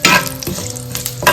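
Urad dal and dried red chilies sizzle and crackle in hot oil for a spicy seafood fry, toddy shop style, the frying loud and close with a few sharp pops and stirring scrapes.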